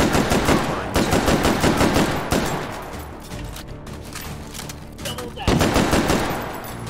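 Rapid bursts of automatic gunfire in the VR shooter H3VR, loud and close, with dense rattling volleys easing off mid-stretch before another heavy burst near the end.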